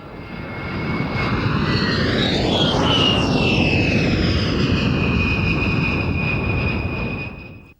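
A close-support jet aircraft with a seven-barrel nose gun flies past at the Mildenhall Air Fete, its loud engine roar swelling and sweeping in pitch as it crosses close overhead, then fading away.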